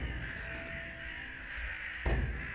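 Crows caw as a sound effect in a Japanese reading of Rashomon, harsh calls over a steady dense ambient bed, with a sudden louder burst near the end.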